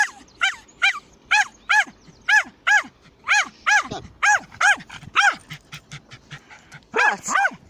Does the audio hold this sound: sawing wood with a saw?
no